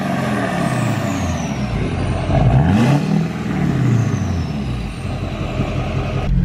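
Straight-piped exhaust of a 2012 Duramax LML diesel truck, a loud, continuous deep diesel rumble close by, with a brief swell partway through, and no talking.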